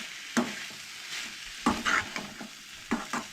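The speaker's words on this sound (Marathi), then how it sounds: "सगळी एक सारकी अशी भाजता अशी परतून घेवंक जाय" Tomato, onion and beans sauté in a pan for a Goan egg curry. Several distinct scrapes and clanks of a spatula stir the mixture over a soft, continuous sizzle.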